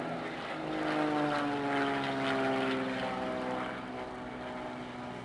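A propeller aerobatic airplane from an aerobatic team passes at an air show picnic in Płock, its engine drone swelling loudly and then easing off over about five seconds.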